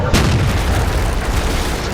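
A single heavy KV-2 tank cannon shot in the World of Tanks game: a sharp, loud boom followed by a rumbling low tail that fades slowly over about two seconds, with no talk.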